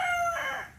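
A claret gamefowl rooster crows in a backyard, one loud, close call that rises and then trails off.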